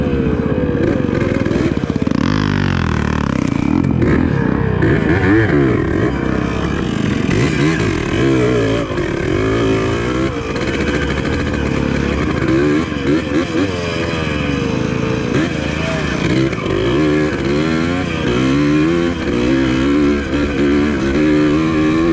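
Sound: Yamaha DT180 trail motorcycle riding down a hill

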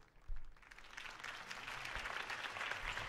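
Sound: crowd applause in Batman Telltale video game

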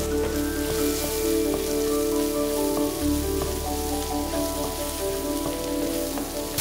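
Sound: turmeric powder sautéing in a pan for aloo bhaji

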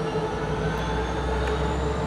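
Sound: Amtrak 77 train with two F59PH locomotives passing

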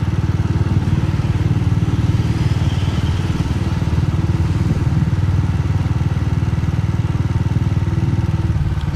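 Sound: earth breaker construction machine noise

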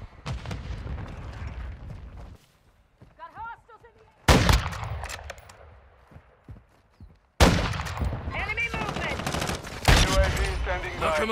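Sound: gunfire in video game Modern Warfare 2

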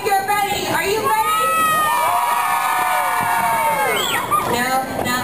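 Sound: children screaming and cheering

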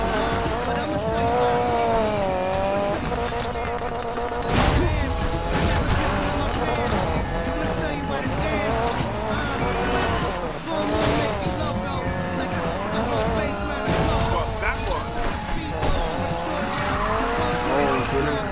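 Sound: car drifting with tire squeal in video game Need for Speed Payback

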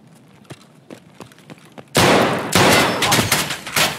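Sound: gunfire in the video game Escape From Tarkov

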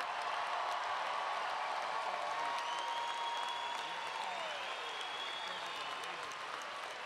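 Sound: audience applauding nursing graduates at commencement

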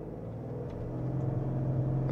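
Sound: Ford Explorer ST engine revving while brake torquing

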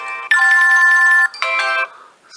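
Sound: classic ringtone on an HTC One mini phone

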